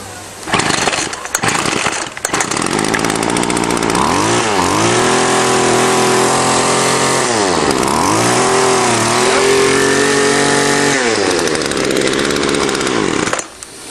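A weedeater string trimmer with a freshly cleaned carburetor sputters to life, then its small two-stroke engine revs up and down several times in loud, whining surges before cutting off.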